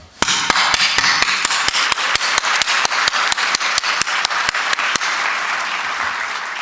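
An audience at a formal dinner applauds steadily, a dense wash of clapping from many hands, with a sharp regular tapping running through it.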